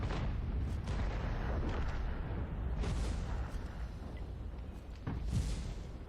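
Artillery shells fire and land in a World of Tanks battle at Prokhorovka, a run of deep booms and bursts, several loud ones in sequence with rumbling decay between, no talk.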